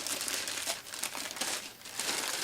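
A plastic bag sealed with sellotape is nicked and cut open, giving a close, continuous crinkling and rustling of plastic for a couple of seconds.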